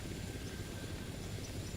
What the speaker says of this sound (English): Watching the helicopter just fly in through the steel meshing and back up and out.